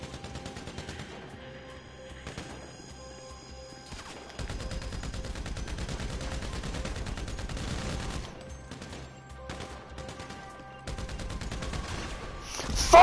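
GTA 5 gunfire, bursts of rapid automatic shots and single cracks scattered across the clip, loud and clipped, with game sounds between volleys and a sharp spike at the end.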